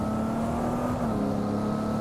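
Electric car in the racing video game Test Drive Unlimited Solar Crown, a steady synthetic motor whine with a sustained tonal hum, gently sliding in pitch, heard alone.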